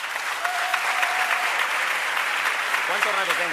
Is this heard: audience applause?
yes